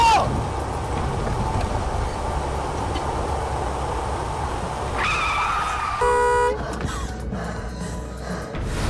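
A car of the same make, model and year as a crash vehicle, with a failed brake pedal that cannot be pressed, rolls with steady engine and road noise, then a sharp tonal tyre squeal and skid near the end.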